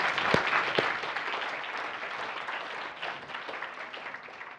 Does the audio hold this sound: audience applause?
yes